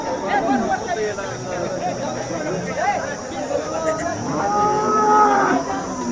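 Cattle moo repeatedly at a cattle market in Sangola, loud and close, with long drawn-out lowing calls overlapping amid faint background chatter.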